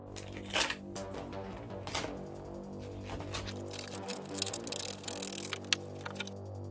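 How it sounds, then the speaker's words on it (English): Scissors cut through skateboard grip tape from the inside of a cut-out graphic, making scratchy, crunching snips in uneven bursts over a low steady hum, with no talking. "I can just take the scissors and just cut it out from the inside."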